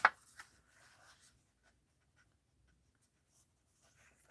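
Paper being cut into pieces for folded note cards, a faint dry scrape and a quick sharp cut at the very start, then soft scattered rustles in a quiet room.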